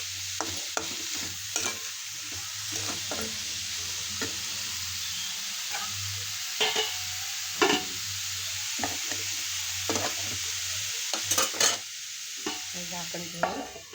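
Momo filling being stirred in a pan, with repeated scraping and clinking strokes of a spoon over a low continuous sizzle, fairly quiet and close, with no voices.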